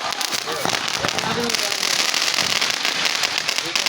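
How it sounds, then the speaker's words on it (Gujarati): Rapid crackling bursts of firecrackers pop continuously and loudly at a Holi bonfire celebration, with voices shouting faintly underneath. "વાહ ફટાકડા વાહ"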